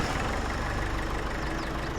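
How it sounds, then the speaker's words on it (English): Farming Simulator tractor engine running steadily at idle or low revs, a continuous low rumble with a constant drone and no talk over it. "Here's the tractor we left down here. Let's get this home."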